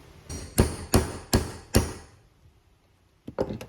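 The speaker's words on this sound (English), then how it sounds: "I'm just going to smash at it with a hammer until it comes through the other side" Four heavy hammer blows land in a steady rhythm against a hard metal roof rack on a Toyota Tacoma, then a pause and two quicker strikes close by.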